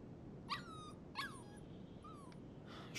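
A puppy in the Life is Strange 2 video game whimpers in three or four short, high, quavering whines spaced about half a second apart over a faint steady background hum.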